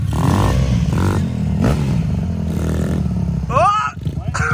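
A 1972 Suzuki dirt bike climbs a hill, its engine revving and roaring up close with clattering and rising throttle bursts, over people talking.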